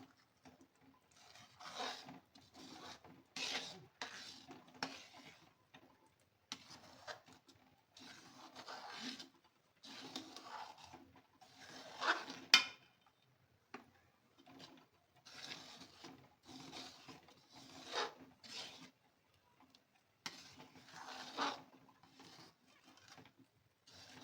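Gond pak mixture of edible gum with cashew and almond powder being stirred continuously in a pan, a close, rhythmic run of scraping and rubbing strokes repeating throughout without talk.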